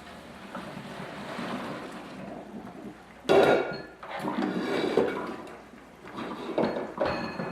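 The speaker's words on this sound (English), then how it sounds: "I'll turn off drain pasta." Cooked pasta is drained, water pouring and splashing in bursts, a loud rushing gush with clattering of a pot, rising and falling over several seconds.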